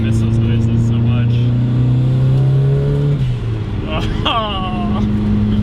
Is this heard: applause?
no